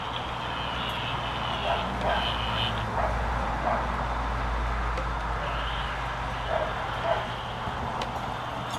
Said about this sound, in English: my dog hears things and likes to make noise